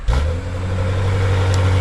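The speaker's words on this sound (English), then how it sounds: "the quad tip dual exhaust, which you can start up with the remote" A 2023 BMW 760i xDrive engine starts by remote and settles into a steady, loud idle with a deep, rumbling tone from the quad-tip dual exhaust throughout.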